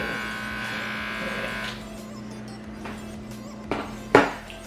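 An Andis Pivot Motor adjustable blade clipper runs with a steady, low electric hum through the first half, then switches off, leaving a faint background and a couple of small knocks near the end.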